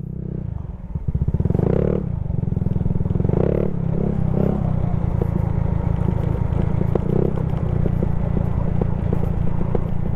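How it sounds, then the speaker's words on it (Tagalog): A Yamaha Mio Sporty scooter engine-brakes down a mountain road on Mount Banoy, giving a steady close putter with clattery bursts and small throttle blips along the descent. "Engine brake ng konti, pitik-pitik lang ng konti sa unahan"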